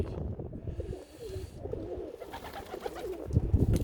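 Pigeons coo repeatedly, a soft throaty warbling that rises and falls over steady low background rumble, with occasional fluttering and shuffling nearby.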